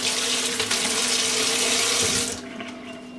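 Tap water runs steadily into a sink while a makeup brush is rinsed, a bright continuous splashing rush that cuts off abruptly near the end, leaving a quieter hum.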